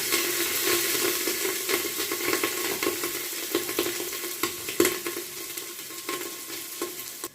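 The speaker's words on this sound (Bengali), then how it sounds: "দিয়ে দেবো সামান্য ঘি, দিয়ে দেবো কিছুটা রাইস" Rice frying in ghee for Kolkata-style mutton biryani, with a steady sizzle and repeated scraping stir strokes of a spoon against the pot, close and clear with no talking.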